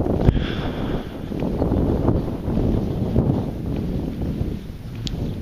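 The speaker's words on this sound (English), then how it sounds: "You ain't gonna hear, are you? Because it's bloody wind." Wind buffets a microphone outdoors, a continuous loud low rumble with gusty surges and no voices.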